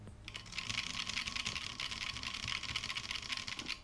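Continuous fast typing on an unlubricated 1980s Mac keyboard, dense clacking keystrokes in a steady unbroken stream, close and moderately loud with no voices.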